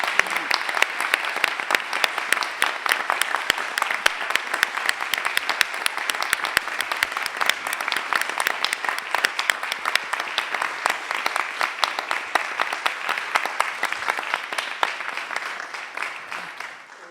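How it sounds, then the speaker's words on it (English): Sustained, dense applause fills a hall after the final hearing of an international moot court competition. Many hands clap steadily for the whole stretch without easing off, and no voices come through. "Why don't we give them a round of applause"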